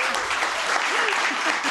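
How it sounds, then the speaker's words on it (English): A live studio audience claps together at a TV consumer-advice show, a brief, fairly loud burst of applause that holds steady with a faint voice under it. "Let's give him a clap anyway."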